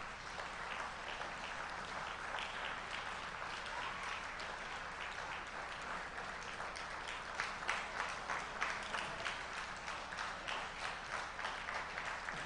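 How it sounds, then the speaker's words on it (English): Standing ovation for past presidents at the IFMA Silver Jubilee Celebration Dinner: sustained, dense clapping from a large crowd, heard fairly faint and distant, swelling slightly toward the end. "can we please rise up and give a rousing applause to all our past"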